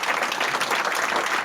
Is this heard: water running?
no